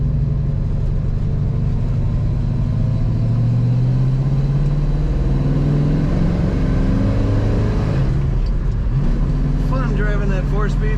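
A 1966 Ford Mustang coupe with a four-speed manual being driven, its engine a steady low rumble that builds and revs near the end, with people talking over it.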